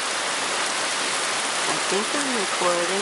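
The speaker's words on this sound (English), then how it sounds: "It's raining." Steady rain falls as a dense, even hiss throughout, with a person speaking briefly over it near the end.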